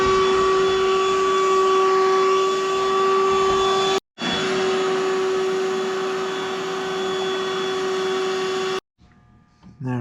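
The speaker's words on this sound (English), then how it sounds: "see if I can vacuum some of that stuff out" A small handheld vacuum cleans debris inside a Jeep Wrangler, whining steadily at close range with a high tonal hum, cutting out briefly once, then stopping near the end.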